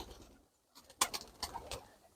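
Baku pigeons in a dovecote give a few soft, close coos in short bursts after a brief lull, quiet overall, with no talking.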